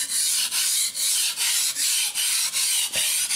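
A knife blade rubs back and forth on a Suehiro Cerax 320 grit Japanese waterstone, making steady rasping strokes, about eight evenly spaced passes, close and clear with no voices.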